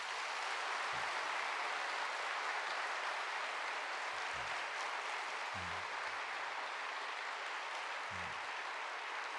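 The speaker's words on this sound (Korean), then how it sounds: "이제까지 쳤던 박수 가운데 제일 뜨겁게 우리 격려의 박수 한번 해주시기 바랍니다" A church congregation at Chuncheon Jungang Church applauds during a Sunday service, a steady, dense wash of many hands clapping that runs unbroken and fairly soft, with a few dull low thumps scattered through it.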